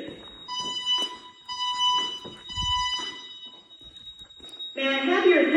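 Building fire alarm under inspection sounding steady pulsing horn tones, then a brief shrill electronic whoop at the end, with a voice announcement heard over it.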